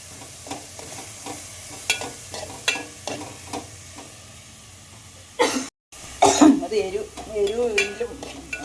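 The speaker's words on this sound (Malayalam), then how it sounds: "ചുമക്കുന്നുണ്ട് വല്ലാണ്ട്" Several sharp coughs burst out at uneven intervals over a low sizzle of tomato and green chillies frying and occasional stirring in a pan.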